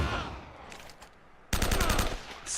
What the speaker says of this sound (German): Man hört ja wirklich definitiv, wenn man damit schießt, das gibt richtig ordentlich Knall.